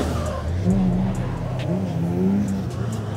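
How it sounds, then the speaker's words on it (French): Drift cars warming up at a round of the French drift championship, engines revving with gliding pitch sweeps and brief tire squeal against a steady loud roar, with voices faintly mixed in. "On est parti dans un show drift."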